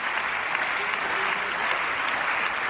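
Steady, dense applause from a large crowd in a parliament chamber, sustained evenly throughout with no pauses.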